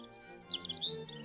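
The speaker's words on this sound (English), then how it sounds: "he started to hear birds singing outside" Outdoors, a bird sings a quick, bright run of close chirps and trills, clear and alone with no voices.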